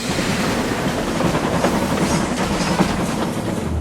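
A runaway cartoon steam locomotive with its goods train rumbles along the main line with steady clatter and roaring noise, loud and continuous throughout.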